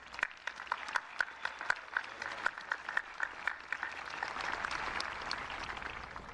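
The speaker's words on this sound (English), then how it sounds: "So give yourselves a round of applause." A graduating high school class gives a round of applause at a 2025 graduation ceremony, with sparse individual claps at first building into denser, steady clapping from a crowd heard from some distance.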